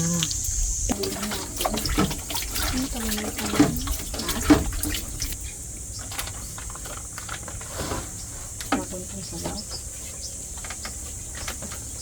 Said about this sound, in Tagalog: lagay ko na tong mainit na tubig